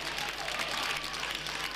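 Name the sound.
bandy supporters cheering and applauding in the stadium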